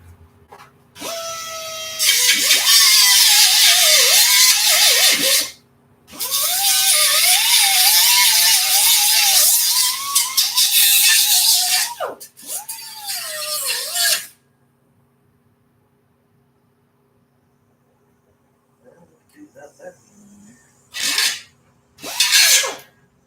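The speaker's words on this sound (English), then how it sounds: "Let's buff that out a little bit." A buffing tool working an RC part in loud, harsh raspy bursts of several seconds each with wavering pitch, then a long quiet gap and two short final bursts.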